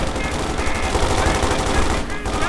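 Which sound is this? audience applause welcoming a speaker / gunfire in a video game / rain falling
gunfire in a video game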